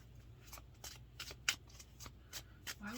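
A deck of tarot cards is shuffled by hand nearby, soft papery riffling in short repeated bursts over a quiet room background.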